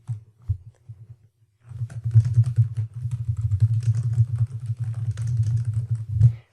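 Keystrokes on a computer keyboard entering details into a CRM lead form, a steady run of close, light taps after a short quiet start, with a few louder strikes near the end.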